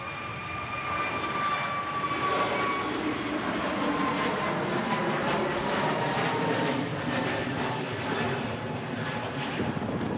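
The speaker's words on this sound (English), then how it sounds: "There's that Pegasus A321 heading back home." A Pegasus Airbus A321 jet at Manchester Airport produces a loud, continuous engine roar with a broad rushing hiss that holds steady for about ten seconds, heard from a distance with no talking.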